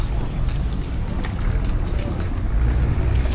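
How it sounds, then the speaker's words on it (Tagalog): A motor boat bound for Santa Fe, Romblon churns steadily across the water, a close, continuous engine drone with wind buffeting the microphone and voices faintly in the background. "Sasakay na kami ng boat pa Santa Fe, Romblon."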